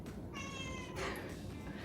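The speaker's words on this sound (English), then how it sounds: "it's my cat" A pet cat gives a single short, clear meow indoors in a home kitchen, moderately faint and alone with no talking over it.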